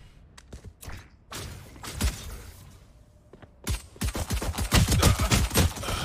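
Rapid bursts of video game gunfire, scattered shots at first, then a dense, loud volley of repeated blasts toward the end.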